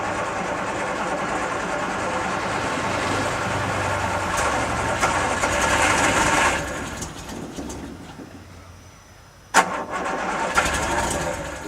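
A 1973 Triumph GT6 engine cranks and fires, giving a steady loud rumble for several seconds that drops to a quieter idle, followed by a sharp knock and the engine revving back up, close and without talk.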